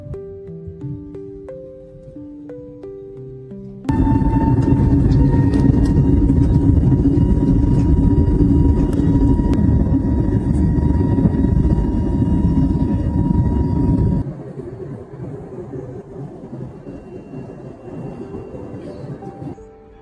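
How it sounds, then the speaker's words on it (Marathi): Inside the cabin of a Delhi to Leh flight, a loud, steady jet engine roar surges in during takeoff after a few seconds of quieter cabin sound, holding strong before dropping to a lower rumble. "प्लेन निघालाय आता"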